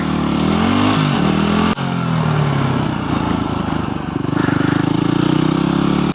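A Yamaha WR250X fuel-injected supermoto motorcycle revs and pulls away from a stoplight. The engine is loud and close, with a rising note, a brief gear change near two seconds and then steady acceleration.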